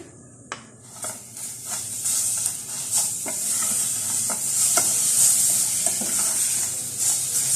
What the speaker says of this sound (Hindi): सवैयों को इस ऑयल में थोड़ा सा फ्राई कर लेते हैं।